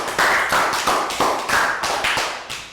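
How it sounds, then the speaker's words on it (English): About eight evenly spaced hand claps ring out in a steady beat in a classroom, sharp and close, with no voices. "Round of applause."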